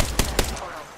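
A light machine gun fires in the Apex Legends video game, two sharp, loud, close shots in quick succession, then a fading ring-out.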